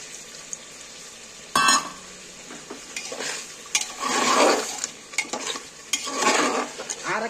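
Chicken masala frying in a pan as ginger-garlic water and spice-rinse water are added, with spatula stirring scrapes, bursts of sizzle and clinks of cookware coming in uneven waves.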